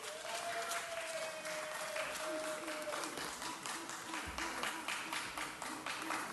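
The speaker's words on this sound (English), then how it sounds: "Please give them all a big round of applause." Sustained applause from an audience at a Los Angeles city council meeting honouring public library staff and supporters, steady broadband clapping throughout with a faint tone and some voices underneath.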